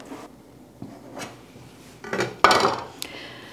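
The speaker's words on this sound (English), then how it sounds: "Use a bench knife or a chef's knife to divide the dough into four even pieces" A bench knife or chef's knife chopping bread dough into four pieces on a work surface, heard as a few scattered taps and one sharper, louder knock near the end, close and without talk.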